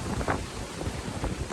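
Strong gusting wind buffets the microphone on the Appalachian Trail in the Smokies, a rough low rumble with uneven bursts, loud and close, no voices.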